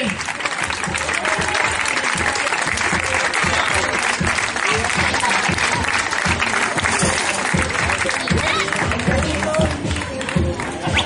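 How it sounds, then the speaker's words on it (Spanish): Loud, dense applause from a crowd at an award ceremony for runners of a popular road race in Telde, steady clapping that holds throughout with some cheering mixed in. "Un aplauso para los tres."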